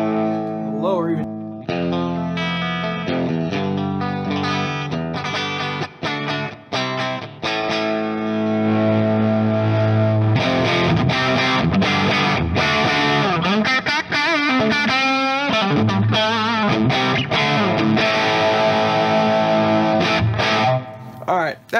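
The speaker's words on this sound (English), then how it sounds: "the reverb that you are actually hearing is the reverb that is coming from the Torpedo Captor X" Heavily distorted electric guitar plays sustained chords and then busier riffs through an amp, washed in reverb from a Torpedo Captor X. The tone is loud and close, with the notes ringing out into a lingering tail.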